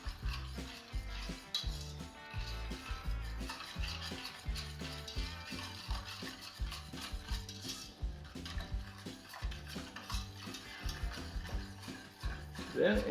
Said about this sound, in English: we're going to stir that up with a whisk so the sugar doesn't get all clumped in there